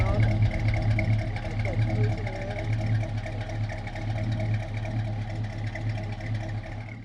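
A classic car engine idles nearby in a continuous, even low rumble that stays steady for several seconds, with indistinct voices faintly beneath it.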